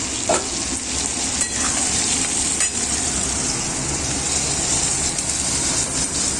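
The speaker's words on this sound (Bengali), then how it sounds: "এখানে পটল ভাজা হচ্ছে।" Pointed gourd frying in a pan at home, a dense, even sizzle and crackle close by, with light scraping from stirring and no speech.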